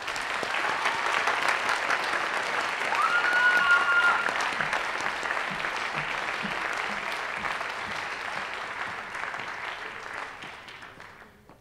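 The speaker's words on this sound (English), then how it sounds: "Round of applause." Sustained applause from an audience at a senior awards and cording ceremony, steady and fairly loud for about eleven seconds, swelling slightly in the middle before tapering off at the end.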